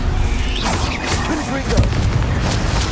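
Bombarda blasting spell in Hogwarts Legacy, a heavy booming explosion with rumbling, crackling debris throughout, loud and close, with a voice talking over it.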